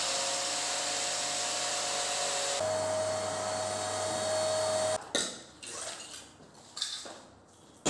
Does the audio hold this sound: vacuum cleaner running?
yes